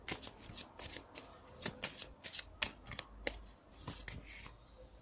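Tarot cards are shuffled by hand during a cartomancy reading, giving a quick run of crisp, riffling card flutters and soft slaps in close, uneven bursts with no voices.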